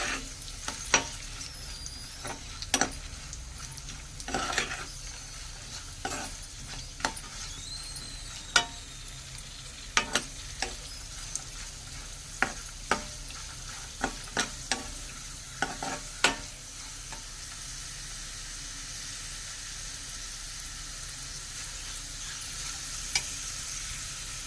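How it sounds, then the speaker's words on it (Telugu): Raisins and nuts fry in ghee in a pan with an even, steady sizzle. Sharp scraping clicks from the stirring break through it every second or two, and no one speaks. "ఇప్పుడు కిస్మిస్ వేయించుకుందామండి."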